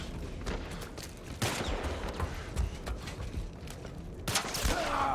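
Gunfire in the video game The Last of Us Part 1, a steady dense stream of shots and impacts with a louder burst near the end, moderately loud with no talking over it.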